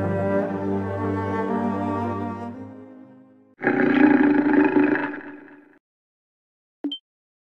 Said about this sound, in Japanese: 狼の群れ。